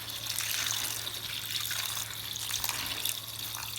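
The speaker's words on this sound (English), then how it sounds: "So right now I'm going to start washing the beans and peeling it." Dry beans for akara being rinsed and soaked in water, a steady close splashing and running-water wash that continues throughout without speech.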